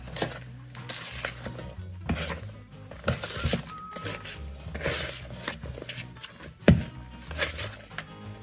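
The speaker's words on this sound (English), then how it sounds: "Give it a good stir." A spoon stirs chocolate into cookie mixture in a bowl, giving repeated scraping and clinking against the bowl with a few sharper knocks, close and fairly quiet, with no voices.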